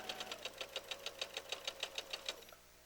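A sewing machine stitching quilt blocks runs steadily for about two and a half seconds, a rapid, evenly ticking needle rhythm over a low motor hum, fairly faint, then stops, with no voices.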